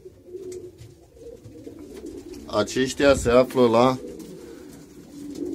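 Racing pigeons from a breeding loft of Van de Pool and Brugeman lines coo in a short burst of several warbling calls, close and fairly loud, over a quiet background with someone speaking before it.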